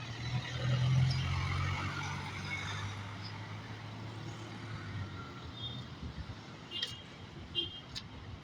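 Passenger jeepneys and cars pass along a city street on a route toward Baklaran, a continuous moderate traffic roar with one louder vehicle passing close early on, followed by lighter distant rumble and scattered clicks.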